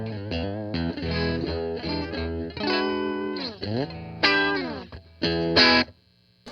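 Electric guitar with single-coil pickups on the bridge position, played clean through an Armored Amplification Little Rascal low-watt combo amp: a run of plucked notes and ringing chords with some bends, alone and close.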